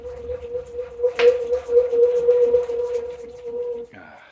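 An ice bath's extendable drain pipe pulled out from its valve: a sustained hollow tone hums steadily for several seconds with a scraping, clicking texture over it, ending with a brief higher squeak.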